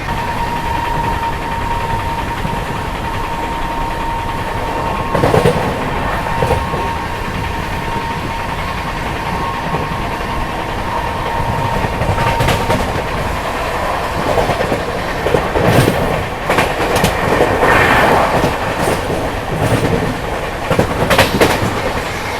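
The 12003 Lucknow Shatabdi Express rolls along the tracks into Unnao Junction with a continuous rumble and rhythmic clickety-clack of wheels, growing busier toward the end.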